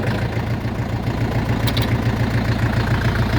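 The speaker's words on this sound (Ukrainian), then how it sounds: "гарно працює, трактор на 4 циліндра 40 кінських сил" An Orion 404 tractor with a 4-cylinder, 40 hp engine idles close by, giving a loud, steady rhythmic chugging with no speech.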